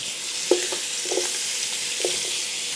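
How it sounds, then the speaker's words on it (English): Garlic and vegetables sizzle in a hot skillet beside toasting tomato paste, a steady close hiss broken by a few soft stirring scrapes. "Immediately the house is smelling amazing once that garlic hits that skillet."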